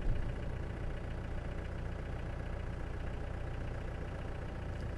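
A safari vehicle's engine idles in a low, steady rumble that stays even throughout, with no voices over it.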